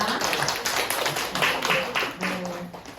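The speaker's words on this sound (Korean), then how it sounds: "박수 부탁드리겠습니다" A lecture audience gives short, scattered applause at a talk about love, a few sets of hands clapping nearby in uneven bursts over about three seconds.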